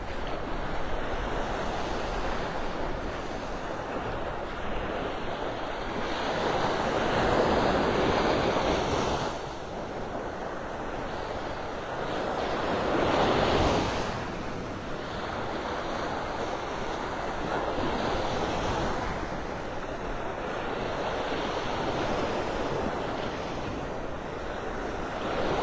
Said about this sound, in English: I love the color of that water, the sounds of the waves